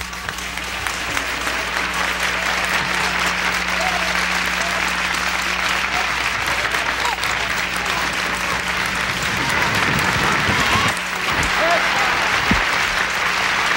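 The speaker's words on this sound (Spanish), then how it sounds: "esta noche se han ganado un aplauso de lo más cariñoso y caluroso los componentes de la exquisita orquesta de Aníbal Abreu" A 1976 audience gives warm, sustained applause to Aníbal Abreu's orchestra. The clapping is loud and continuous, with a low steady hum underneath and a few brief thumps near the end.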